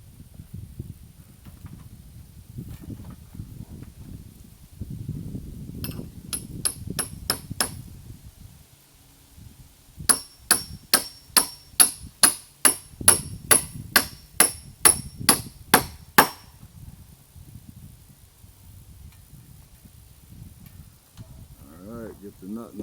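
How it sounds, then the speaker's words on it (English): A trusty hammer drives a bolt through a wooden deck main frame: a run of about a dozen loud, evenly spaced ringing metallic strikes, preceded by lighter taps and some talk before and around the blows. "Now I'll just knock my bolt through. Good old trusty hammer"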